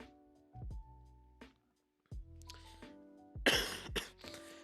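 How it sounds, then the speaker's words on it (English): A person coughs and clears their throat several times during a PC build livestream. There are short separate bursts with pauses between them, and the last few are the loudest, close to the microphone. "I'll cough before we start to mess with it."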